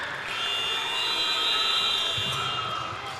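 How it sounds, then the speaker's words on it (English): An end-of-quarter buzzer sounds at a boys' high school playoff basketball game, a steady loud electronic tone held for about two seconds over gym ambience and crowd murmur. "So Gibson just beats the buzzer, scores 4 points on that possession"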